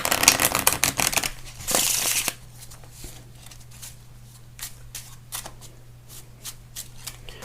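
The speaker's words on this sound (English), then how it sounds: "So they can shuffle the cards as much as they like." Rapid riffling of playing cards during a card trick, a few quick shuffles in a burst, then quieter handling of the deck with a faint hum beneath.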